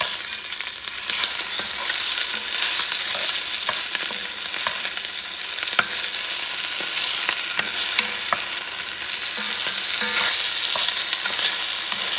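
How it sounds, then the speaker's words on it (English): Shrimp stew sizzling in a cast iron pan with annatto oil as it is stirred, a constant bright frying hiss broken by occasional scrapes and clicks of the spoon against the iron. "And move it around so it doesn't stick at the bottom of the cast iron"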